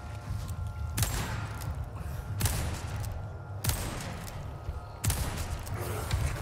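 Rifle shots in the video game Resident Evil 4 (2023): four loud, sharp single cracks spaced roughly a second or more apart, each trailing off over a low, steady ambient rumble.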